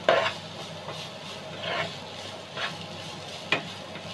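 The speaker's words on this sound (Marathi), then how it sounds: "आणि आता आपण याच्यामध्ये ऍड करणार आहोत टाकळ्याची भाजी। परतून घेऊयात आपण ही देखील।" Takala wild greens are sautéed in a pan over a low flame, a soft scraping stir with a light sizzle beneath, swelling in a few gentle strokes and one sharper knock near the end, with no voices.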